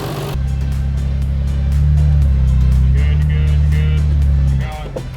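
A Nissan Skyline R33 GTR engine idles steadily, a loud, close, low drone that swells slightly midway before easing off near the end.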